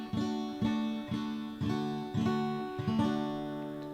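An acoustic-toned guitar strums chords in a lesson, about six evenly spaced strikes that each ring and decay, fairly quiet and close with no talking over them.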